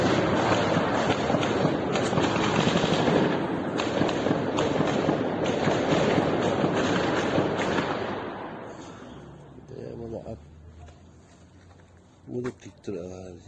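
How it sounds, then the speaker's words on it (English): Battlefield firefight in the Ukraine war: dense, continuous gunfire and blasts roar for about eight seconds, then thin out into a few scattered distant shots as a voice talks over it. "We now hear the firefight subsiding again."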